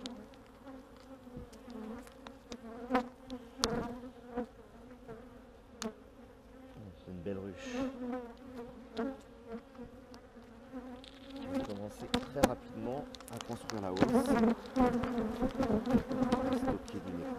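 Dense, steady drone of honeybees inside a Too Bee hive, a continuous close buzz that swells louder near the end, with scattered faint clicks and handling knocks.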